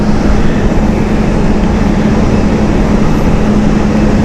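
Boeing 747 jet airliner banking in flight at Amsterdam Schiphol Airport, a steady, loud broadband engine roar with a low drone, continuous throughout.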